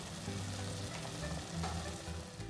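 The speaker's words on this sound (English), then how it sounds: "I'm going to let it cook for 5 minutes on a medium flame" Butter chicken gravy cooks in a pan over a medium flame, giving a steady, close sizzle and bubbling that holds at an even level throughout, with no talking.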